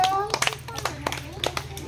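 Children in a kindergarten classroom clap in scattered, uneven bursts while kids chatter and someone speaks close by.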